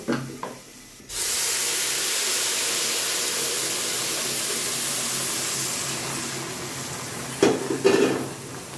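A sharp burst of hissing erupts as water hits a hot pan of fried rice for chicken biryani, settling into a steady, loud sizzle and steam hiss, with a few utensil clinks near the end.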